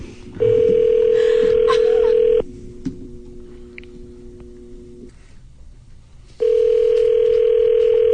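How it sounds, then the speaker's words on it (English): Cell phone call tones: a loud steady ringback tone for two seconds, a quieter gap with faint beeps, then the tone returns, heard close and without talk. "I tried to call her from my cell phone"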